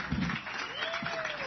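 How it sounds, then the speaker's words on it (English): Applause rises from a crowd at a Washington Mystics and Washington Wizards Geico partnership announcement, a steady wash of clapping with faint voices mixed in. "Let's nice round of applause."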